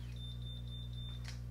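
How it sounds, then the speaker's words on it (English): A handheld hair curler with its hair tangled gives a thin, high electronic tone broken into three short beeps over a steady low hum, fairly quiet and with no voices. "if you heard that 3 beeps, that means the hair got tangled"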